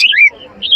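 Lovebirds at a bird market, with two short, bright chirps close by, separated by a brief quiet gap.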